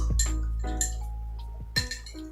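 Glasses clink together in a toast, a few bright, close chimes with short ringing tails, separated by brief pauses and ending in a final pair of taps.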